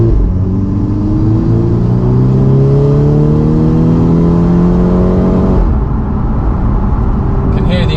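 A VW Golf R Mk6 fitted with a ram air induction kit pulls hard on a road test, its close, loud engine and induction note climbing steadily for several seconds before abruptly dropping off as the throttle lifts.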